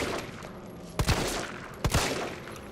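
Gunfire in the video game Resident Evil 3 comes as two loud, sharp bursts about a second apart. Each burst is a quick double shot with a short ringing tail over quiet game ambience.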